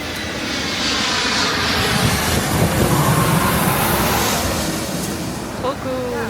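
Airplane coming in to land at St-Martin airport, a loud, steady roar of jet engines filling the whole clip, close and overwhelming, with surf faintly beneath.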